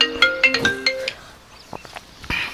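A mobile phone ringtone plays loudly and close, a short run of bright melodic notes followed by softer chimes, with no talk.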